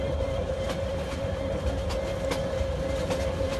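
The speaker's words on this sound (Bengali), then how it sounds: "আমরা হুইসেল দিতে দিতে আমরা ট্রেনটা নিয়ে সামনে দিকে চলতে থাকি" A train rolls along in a Bangladesh train simulator game, a steady rumbling run with a sustained tonal hum and faint rhythmic clicks of wheels over rail joints, even and continuous throughout.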